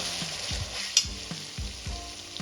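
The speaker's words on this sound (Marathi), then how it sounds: "अद्रक लसूणची पेस्ट पण व्यवस्थित परतून झाली" Tomatoes and ginger-garlic paste sauté in a pan for Kashmiri chicken masala, giving a steady close sizzle with soft scraping stirs repeating about every half second.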